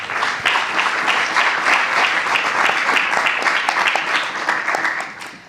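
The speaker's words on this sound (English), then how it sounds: "Let's give her a round of applause." Warm, dense applause from a conference audience after a speaker is introduced at an AI safety event, steady and fairly loud for about five seconds before tapering off at the end, with no talking over it.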